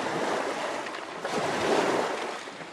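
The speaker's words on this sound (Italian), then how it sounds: "Il mare è lì, si vede e si sente." Sea waves at Levanzo island wash in a continuous broad roar with gentle swells, close by and steady, mixed with wind buffeting the microphone, and no voices.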